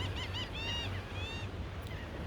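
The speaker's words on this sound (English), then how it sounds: "listening to the sound of the water, the birds" Geese or similar waterbirds honk in a few repeated calls over a steady low rumble of bay water, fairly close and continuous.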